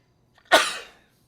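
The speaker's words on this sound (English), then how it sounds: "I'm going to sneeze." A single sharp human sneeze bursts out loud and close after a faint intake, then fades within half a second into silence.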